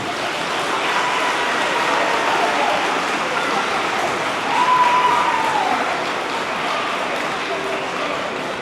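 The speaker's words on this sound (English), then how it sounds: "One more round of applause for all these kids." An audience at a spring school music concert applauds children after their performance, a continuous even patter of clapping heard from within the crowd, with brief talk underneath.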